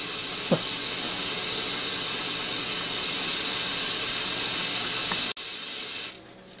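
Steam hisses steadily from a Ninja Foodi pressure pot before it seals, a loud continuous close-up rush that runs for several seconds, then cuts off abruptly as the lid locks, leaving a softer hiss that fades.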